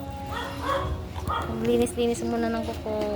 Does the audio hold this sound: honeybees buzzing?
no